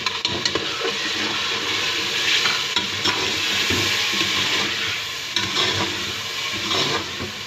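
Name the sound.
tomatoes added to frying urad dal gosht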